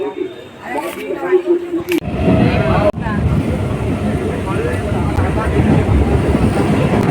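A loud, steady rumbling roar of a train pulling into a station, starting abruptly and continuing under wind buffeting on the microphone.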